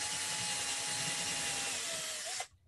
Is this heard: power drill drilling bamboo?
yes